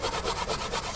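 Scrubbing a spot on the shield of an old lawnmower makes a rhythmic back-and-forth rubbing scrape, a quick run of strokes close by with no talk.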